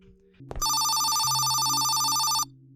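Telephone bell ringing in a video game, a loud, continuous electronic ring lasting about two seconds after a sharp click, then cutting off abruptly.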